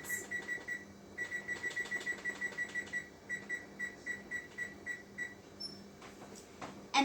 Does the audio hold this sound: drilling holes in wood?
no